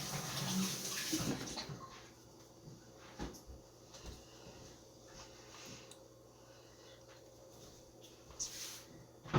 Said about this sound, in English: Wash my hands because sticky and stingy.